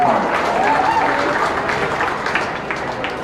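Applause for exhibitors fills a county beef show ring, a steady wash of many hands clapping that carries on for several seconds, with a faint voice drifting over it early on.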